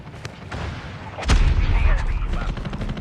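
Rapid gunfire and booming shots from a tactical shooter video game, loud and dense with a heavy burst partway through and continuing bursts, with voices mixed in.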